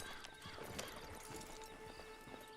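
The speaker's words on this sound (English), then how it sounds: "Just get on the horse when you're good and ready" Horse hooves clip-clop in a steady rhythm in Red Dead Online, with a whinny breaking through partway, close and clear over a quiet ambient bed.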